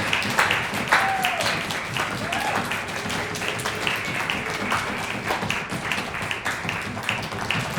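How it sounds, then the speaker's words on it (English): Audience applause for a performer coming up before an opera song cycle, steady, fairly close clapping that continues for several seconds with a few sharper claps and a little speech mixed in. "You can give her a great applause"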